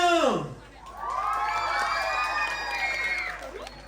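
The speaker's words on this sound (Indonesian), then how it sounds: "boleh dong kasih tepuk tangan yang paling meriah untuk presenter kita, ada Kak Syama dan juga Kak Rio." Audience at a school arts showcase cheering and whooping loudly after a presenter introduction, a sustained crowd roar with shouts lasting several seconds.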